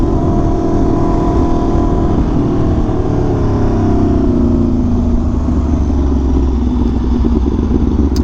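An Aprilia RSV4 1100 Factory V4 superbike roars past nearby, its steady loud engine drone shifting in pitch as it passes, with no voices over it.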